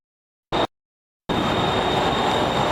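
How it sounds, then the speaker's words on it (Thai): A Bangkok BTS Skytrain at Bang Na station, a short burst of noise followed by silence and then a loud, steady rushing rumble of the elevated electric train passing close by. "นี่ก็คือชมหน้าของเนี่ยรถไฟฟ้า BTS"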